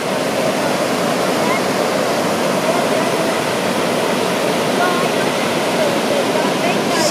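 The Chau River rushes over solid rock near Riley Moore Falls. The roar of white water is loud and steady, close by, and fills the whole stretch without a break.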